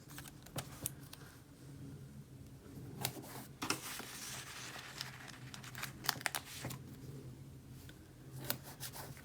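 Monthly budget sticker sheets are handled close by, with crisp crinkles, soft taps and brief rustling bursts spread irregularly over the clip. No one speaks.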